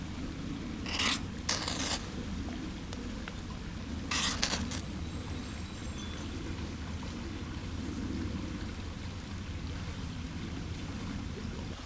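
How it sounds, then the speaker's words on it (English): A Cold Steel Finn Wolf knife scraping material, several short sharp rasping strokes close to the microphone, grouped in two pairs early on, over a steady low outdoor background hum. "So, no problem scraping material there."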